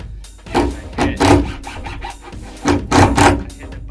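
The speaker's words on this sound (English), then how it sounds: "The drill bit is in the roof." A drill bit grinds into a camper van roof in short repeated bursts, rough rasping pulses with brief pauses between them, close and loud.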